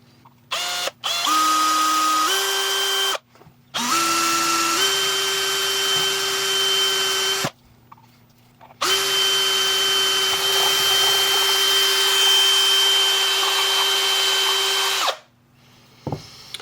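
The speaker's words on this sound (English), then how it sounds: "we're going to drill that out quickly" A power drill whines in several bursts drilling out a hole in a resin 3D-printed electronics housing, its pitch stepping up as it speeds, with brief silent pauses between runs.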